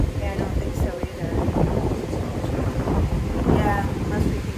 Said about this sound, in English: I know it's really windy